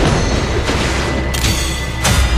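A turret being destroyed in the Autochess MOBA game: a loud, deep booming explosion with a continuous heavy rumble and crashing debris, punctuated by a couple of sharper impacts near the end.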